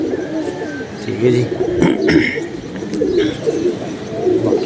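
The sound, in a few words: pigeons cooing on rooftop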